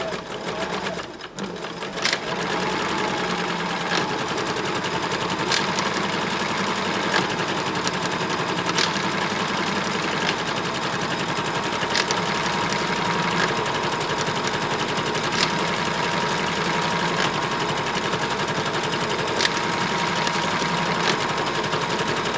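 Sewing machine running a straight stitch to repair a tear in a corded skirt, a steady, fast, continuous mechanical whir close by after a brief start, with no talking.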